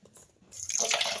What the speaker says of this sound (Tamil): தண்ணீர் ஊற்றி கலந்து கொள்ள வேண்டும்.